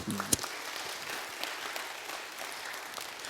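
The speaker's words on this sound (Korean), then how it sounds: "우리 다 감사합니다 하는 마음으로 일괄적으로 박수." A church congregation at Daejeon Central Church breaks into steady, dense applause during an afternoon service, with a brief voice at the very start before the clapping carries on alone.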